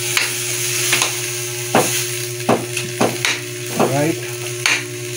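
Coconut milk sizzles and bubbles steadily in a pan for Bicolano cooking, broken by sharp clanks and scrapes of a utensil stirring, with a faint steady hum underneath.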